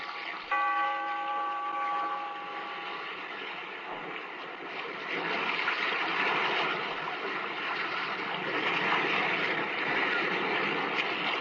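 Steady rushing surf of the sea fills a radio drama scene, a broad continuous wash, with the tail of a bell stroke fading at the start.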